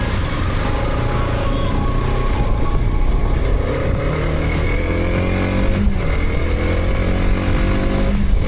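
A 2026 TVS Apache RTX 300 motorcycle ridden along a road with frequent speed breakers, its engine and wind rumble loud and continuous throughout, with no talk.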